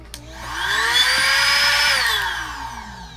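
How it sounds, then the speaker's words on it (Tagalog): A vacuum sealer or vacuum pump drawing the air out of a bag packed with clothes for carry-on luggage: a steady whirring motor hum that rises in pitch, holds, then slowly winds down over about three seconds, heard up close with no talking. "Vacuum seal natin siya ulit."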